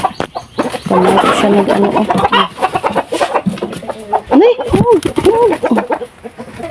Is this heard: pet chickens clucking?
yes